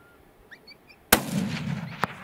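A single loud rifle shot cracks out during a coyote hunt in open country, sharp and close, then rolls away in a long fading echo, with faint birdsong before it and a small knock after.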